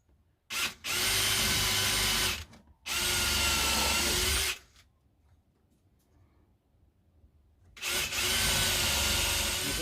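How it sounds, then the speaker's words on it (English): A power drill whines through apple burr wood for a resin mould in three loud, sustained bursts of a couple of seconds each, separated by near silence. "we just drill on there, go the way through"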